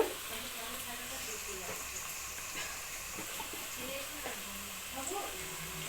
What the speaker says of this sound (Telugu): ఇవి కూడా మంచి ఫ్రై అయ్యేదాకా ఉంచాలి